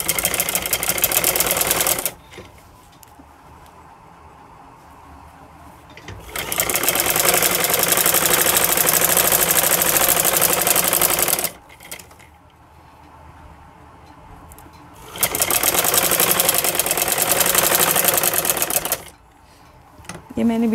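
A sewing machine stitching a V-neck seam runs in three bursts of fast, even whirring and ticking, each lasting several seconds, separated by quiet pauses, close and clear.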